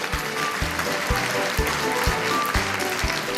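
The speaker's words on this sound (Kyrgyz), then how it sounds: "Кол чаап коелук." A group applauds during a children's healthy-eating quiz, with steady, rhythmic clapping in unison that continues evenly throughout at moderate loudness.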